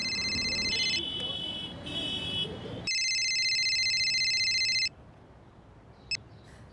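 An outgoing phone call rings with repeated electronic tones in bursts, loud and close, with a short blip near the end and no talking.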